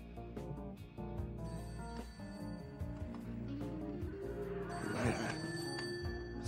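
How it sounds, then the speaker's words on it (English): A telephone rings repeatedly in the video game Serial Cleaner, a bright electronic bell repeating in short bursts over game music and ambience, with no talking. "Let's pick up this phone."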